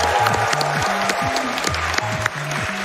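An audience at a Summer Games Done Quick speedrun event applauds a player, with a steady wash of clapping over low, melodic game music.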